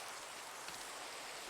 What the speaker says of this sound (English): Ugh, dumb rain.